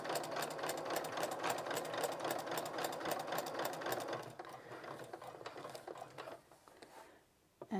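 A sewing machine stitches down the placket of a Dockside & Driftwood polo, running in a fast, steady, close-up whir for about four seconds, then slowing into sparser, quieter stitches before stopping.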